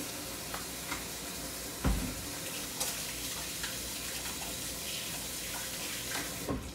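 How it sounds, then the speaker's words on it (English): Running tap water streams steadily into a kitchen sink as hands are washed during brownie baking, with a continuous close hiss and a few clunks. "Gotta wash those hands."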